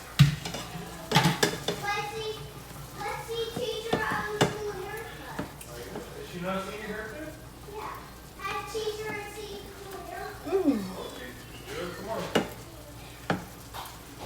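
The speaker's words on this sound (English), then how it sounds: "I'm gonna flip them and let them cook the rest of the way" Garlic butter shrimp sizzle in a pan as they are flipped, with utensil clinks and pan knocks; a voice and other talk carry on over the frying.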